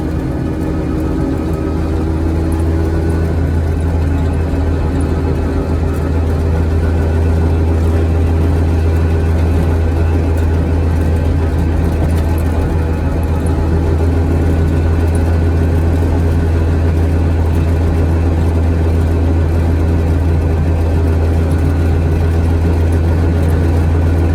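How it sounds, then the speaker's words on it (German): Ape 50 three-wheeler engine runs at a steady idle, a loud, close, low drone with constant buzzing throb and no talk over it. "Motor läuft super, ich bin sehr zufrieden."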